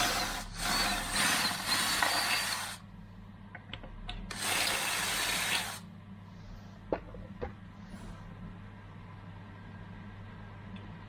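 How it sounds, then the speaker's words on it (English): On a 1990 Range Rover dashboard repair, a drill bites into hardened metal filler in two close, harsh grinding bursts separated by a pause, followed by a few quiet clicks and taps. "it puts up a challenge to drill"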